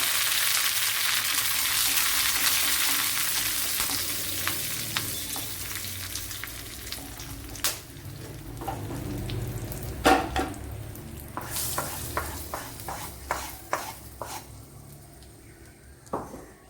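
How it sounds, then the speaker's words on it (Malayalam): Mustard seeds, dried red chillies and curry leaves sizzle in hot oil, a loud frying hiss that gradually fades, punctuated by scattered sharp pops and spatters, especially toward the end. "ഇവിടെ കടുക് പൊട്ടിയിട്ടുണ്ട്. വറ്റൽമുളക് ഇട്ട് കൊടുക്കുക. ഇനി കറി ലീവ്സ് കൂടെ ഇട്ട് കൊടുക്കുക."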